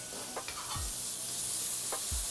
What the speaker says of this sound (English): this is an optional step, but I like to add some butter